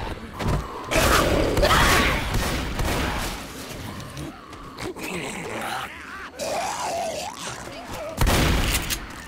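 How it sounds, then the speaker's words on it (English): Shotgun blasts in a Left 4 Dead match, several loud sharp bursts scattered among grunts, clatter and busy game action, with voices talking over it. "Shotgun."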